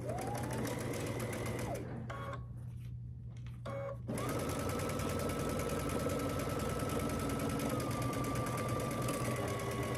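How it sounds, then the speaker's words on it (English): A sewing machine stitches a row of a Churn Dash quilt block, its steady motor hum running close and continuous, with a brief pause mid-seam before it resumes at a slightly different pitch. "So now I'm going to take it and sew all the way down this row"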